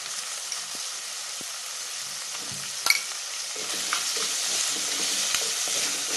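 Chopped tomato and salt sauté in hot oil for a fish curry, giving a steady close sizzle with scraping stirs and a sharp knock of a spoon against the pan, no voices.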